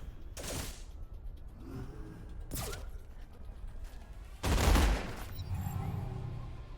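Artillery fire in the sci-fi strategy game Age of Wonders Planetfall: three bursts of booming, crackling blasts, the last deepest and loudest, with creaking mechanical sounds between.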